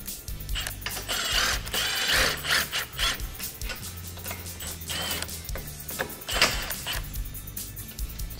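Steady mechanical ratcheting and metallic rubbing as nuts are tightened onto M8 bolts fastening a spare tire carrier bracket on a Can-Am Commander, close and continuous with no talking.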